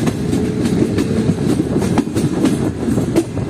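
Tezgam passenger train in Pakistan crossing the high Kotri bridge over the river, with steady close clickety-clack of wheels on rails and a loud rumbling carriage drone throughout.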